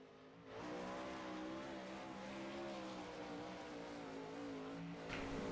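Non-wing sprint cars race around a Kokomo oval in a California Lightning Sprints event, engines roaring loud and steady with rising and falling harmonic pitch as they circle, and a brief louder burst near the end.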